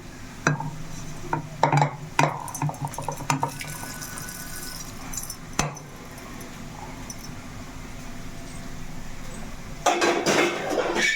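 Fried coconut and onion pieces for chicken fry go from a pan into a mixer jar, with a series of sharp metallic clinks and scrapes of a spoon against steel at irregular intervals, close by, then a brief softer clatter.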